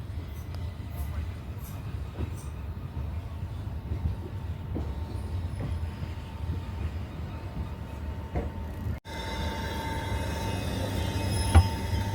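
Onboard a Southern train on the Epsom Downs branch line heading for Banstead: a steady low rumble of wheels and carriage runs throughout, with faint rail clicks, a brief dropout near the end, then continued motion noise.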